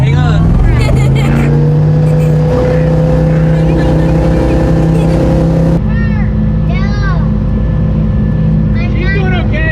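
Motorboat cruising on Lake Winnipesaukee in New Hampshire, its engine a loud, steady drone throughout with rushing water and wind, while people talk over it.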